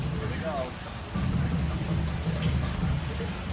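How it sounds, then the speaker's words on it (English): Tropical rainstorm sound effect at a tiki restaurant, a steady rain wash with deep low rumbles of thunder rolling underneath, moderately loud and continuous, with a brief dip before the rumble swells again. "You ordered the tropical rainstorm?"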